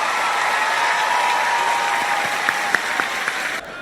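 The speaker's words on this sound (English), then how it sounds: "Please, everyone, give her a big round of applause" An audience at a beauty pageant semifinal breaks into steady, full applause, a continuous wash of clapping that carries on evenly before cutting off abruptly near the end.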